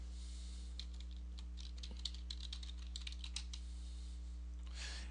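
Computer keyboard typing, a quick run of light clicking keystrokes close by, fairly quiet over a steady low electrical hum, with no talking.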